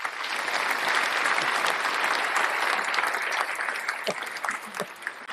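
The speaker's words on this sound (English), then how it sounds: "So let's give Atif a round of applause." Recorded applause sound effect played during a live-streamed software chat, a dense, even wash of many hands clapping that holds steady for about five seconds before thinning out.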